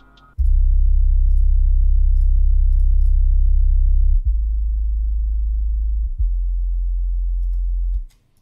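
Deep house sub bass from a synth in FL Studio, a loud, pure low tone held for several seconds with two brief dips, then cut off, with nothing else playing.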